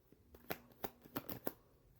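Tarot cards are shuffled by hand in a quiet room, a few soft, close riffles and taps in an uneven rhythm, with no talking.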